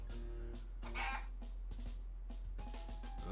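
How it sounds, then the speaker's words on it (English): A company-pet chicken named Omelette clucks in a Yakuza: Like a Dragon game scene, faint short clucks over steady background game music and ambience. "Oh yes, the chicken."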